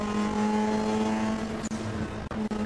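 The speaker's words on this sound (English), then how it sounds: "that Mini Cooper S just goes blowing by" A Mini Cooper S touring race car in a US Touring Car Championship race blows past at speed, a loud, steady engine roar with a sustained tone, briefly dipping as it passes, no talk over it.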